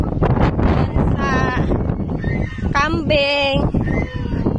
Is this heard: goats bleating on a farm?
yes